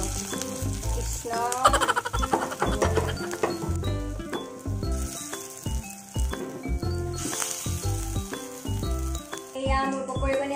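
Pakoras fry in oil in a karahi with a steady close sizzle and occasional rattling, while music plays over the frying.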